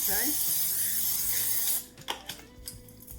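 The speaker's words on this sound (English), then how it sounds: "I'm going to spray it with Pam non-stick so that nothing sticks" A steady broadband hiss of non-stick cooking spray onto a baking dish lasting under two seconds, then stopping abruptly, followed by a few light clicks and taps.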